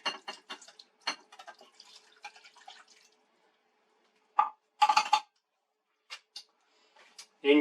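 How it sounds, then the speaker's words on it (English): A spoon stirs tomato pizza sauce made with tomato paste and cheap red wine. There are sparse, quiet clinks and scrapes, some in quick bursts, with stretches of near silence between them. "Stir it all up."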